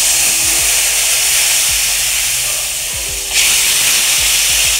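Loud, steady sizzling hiss as a spice tempering is poured into a fish curry of bata fish with potatoes and flat beans, with a sharp surge partway through and faint knocks beneath.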